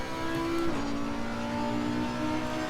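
A race car in Assetto Corsa Competizione brakes hard, its steady engine note dropping in pitch partway through as it slows, loud and close with no voices over it.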